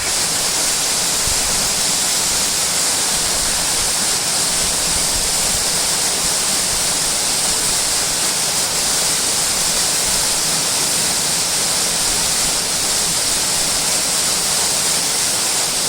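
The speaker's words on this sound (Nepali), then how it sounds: "झरनाको अवलोकन गर्दै" A waterfall roars in a steady, loud, unbroken hiss of falling water close by, with no voices.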